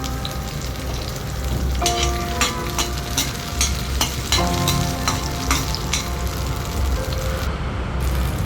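Shallots and garlic frying in groundnut oil in a hot pan, a continuous close sizzle with crackling pops and occasional stirring clinks, no voices.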